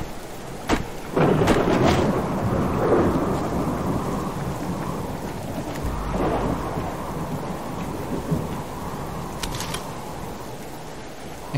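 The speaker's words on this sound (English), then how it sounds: "It's raining cats and dogs." Heavy rain pours steadily at close range, with a loud thunder rumble near the start and further deep rolls spread through the downpour; no voices.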